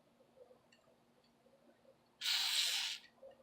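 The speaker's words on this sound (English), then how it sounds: "Spray some more." A single short, strong hiss of solvent sprayed onto a Shimano Deore mountain bike shifter, close up and lasting under a second against near silence.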